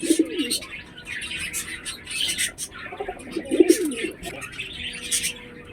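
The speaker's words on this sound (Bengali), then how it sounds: "কিন্তু লেংটি পায়রা, এটা আমার ঘরের পায়রা না" A domestic pigeon coos nearby in two soft, throaty bursts with a few short chirps, set against a light background hiss.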